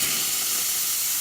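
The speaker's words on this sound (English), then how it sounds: "Nice strong steam." Steam wand of an Olympia Cremina espresso machine with a leaking steam valve, giving a strong, continuous, close hiss that stays even throughout with no voices.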